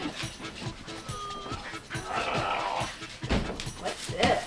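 A dog whimpers and yips in short bursts beside people setting up a tent outdoors, with faint rustling and brief voices in the background.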